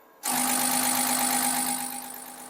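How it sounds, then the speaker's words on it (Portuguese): Ford F-250 diesel engine with an injection pump revving up abruptly from quiet, a loud steady whine and roar with a strong tonal hum, then easing slightly as it holds. "Quando eu acelerar agora, vai começar a produzir injeção de novo."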